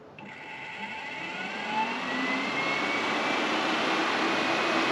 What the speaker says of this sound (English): let me just show you the difference between the two in obviously like fan noise and CFM rating